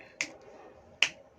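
Two crisp finger snaps, sharp and close, about a second apart against a quiet background.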